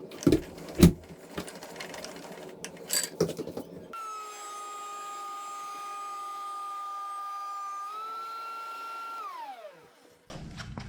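A Dewalt DW735X thickness planer feeds a painted poplar handrail board, its motor spinning up into a steady, loud whine with a bright tonal hum that holds several seconds, then winds down, preceded by scattered handling knocks.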